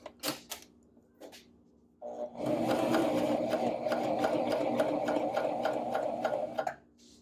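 After a few separate clicks and taps, a sewing machine runs at a steady fast rhythm for about four seconds, top stitching a V-neck, then stops abruptly.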